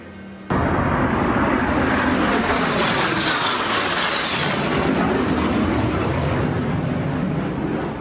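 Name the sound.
Navy 21-plane flyover salute for President George H.W. Bush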